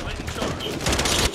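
Gunfire in a video game, a rapid burst of shots crackling close and loud, with a voice talking at the same time.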